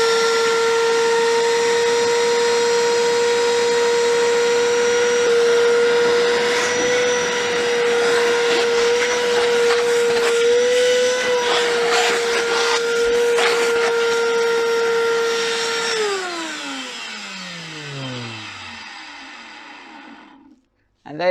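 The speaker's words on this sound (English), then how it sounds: "Just to show you this in action with the water, I've got the water here, turn the vacuum on." A Wicks wet and dry vacuum cleaner runs loudly with a steady high whine while it sucks up water. It holds for about sixteen seconds, then its pitch slides down as the motor spins off, and it goes quiet.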